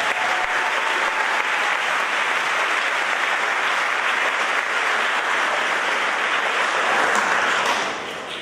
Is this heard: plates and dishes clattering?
no